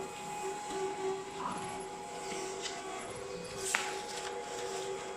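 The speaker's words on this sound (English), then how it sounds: "The folder runs at 5 meters per minute, and now it's folding panel dimension" A Gerafold 205 electric A0 plan folding machine folds paper at 5 meters per minute into 185 mm panels, producing a steady low mechanical hum with faint rolling rattle and a brief tap near the end, heard alone at moderate-low volume.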